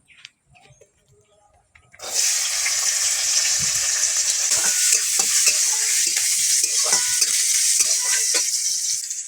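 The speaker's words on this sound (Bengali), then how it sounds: "কড়াতে তেল দিয়ে দেবো। দিয়ে দেবো কিছুটা ছাড়ানো রসুন কোয়া।" Peeled garlic cloves hit hot oil in a wok and burst into a loud, steady sizzle that carries on alone after a quiet start, with stirring scrapes and small crackles throughout.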